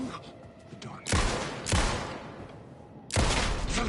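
Gunshots in the video game Alan Wake 2: three loud, sharp blasts, each dying away into a short echoing tail, with quieter game sounds between them.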